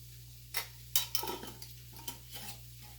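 Half an onion tipped into a skillet of hot olive oil, with a few sharp clatters and scrapes as it lands and gets stirred, over a soft sizzle.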